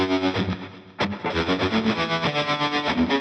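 Electric guitar with fuzz run through a Line 6 Helix, a thick, buzzing distorted tone pulsing in a steady rhythm, with a sharp attack partway through before the riff continues, close and loud.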